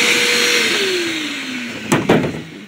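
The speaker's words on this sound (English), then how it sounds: "run the vacuum up into the port" A 1 gallon wet/dry shop vacuum runs with a steady, loud whine while cleaning out a car cylinder head port, its pitch sliding slowly downward, then two sharp suction bursts near the end.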